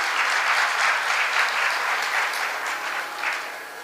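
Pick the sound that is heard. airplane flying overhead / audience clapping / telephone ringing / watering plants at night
audience clapping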